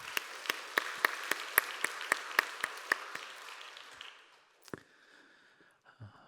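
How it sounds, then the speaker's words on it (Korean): Sunday worship congregation at a Korean church clapping in unison, a run of sharp, evenly spaced claps that fades out, followed by a couple of faint thumps and room noise. "하나님께 영광의 박수 올려드리도록 하겠습니다."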